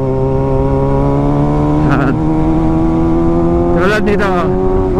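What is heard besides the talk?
Kawasaki ZX6R 2022 motorcycle engine revving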